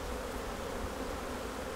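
Honey bees in an open hive during a heavy honey flow give off a steady, dense buzzing drone that holds evenly throughout, close and continuous, with no voices.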